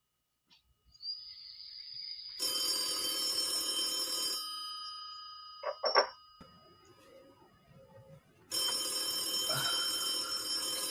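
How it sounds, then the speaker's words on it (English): A telephone rings in bursts of electronic trilling, two long loud stretches separated by a short gap with a few clicks and knocks, fairly close and with no talking. "Phone's ringing."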